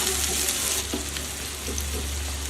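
Onions fry in a pan over medium flame, a close, steady sizzle and crackle with a low hum underneath and a few stirring clinks, no talking.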